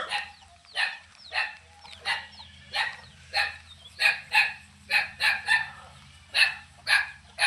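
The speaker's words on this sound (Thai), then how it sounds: "หมาเห่า" A dog barks at a house in Thailand, a steady series of sharp, moderately near barks at roughly half-second to one-second intervals over a low background hum.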